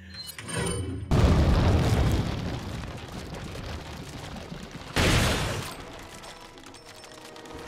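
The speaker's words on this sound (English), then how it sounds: "now I'm gonna grenade" A grenade detonates in Resident Evil 4 with a loud, booming blast, followed by rumbling debris, then a second heavy explosion a few seconds later that fades into a lingering roar.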